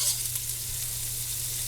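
Diced celery, onion and carrot fry in bacon drippings for a bean and ham soup, a brief, steady, close sizzle with a constant hiss and no voices.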